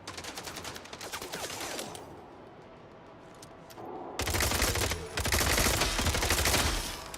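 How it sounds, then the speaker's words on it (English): Rapid gunfire from a shooter video game rattles in dense bursts, with a quieter gap in the middle before heavy, loud automatic fire returns and runs on to the end. "Dude, the kick on this gun is ridiculous."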